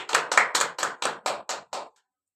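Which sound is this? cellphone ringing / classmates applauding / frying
classmates applauding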